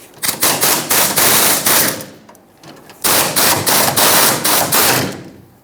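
A power tool buzzes out 10mm fuel tank shield bolts on a 1999-2007 Ford F-350 7.3L Powerstroke in two long, loud, close bursts of rapid hammering impacts separated by a brief pause.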